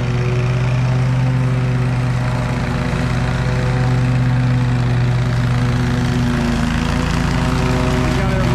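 A Stihl FS 131 string trimmer runs continuously while mowing a grassy bank, its steady droning engine whine loud and close, with the pitch dipping slightly near the end.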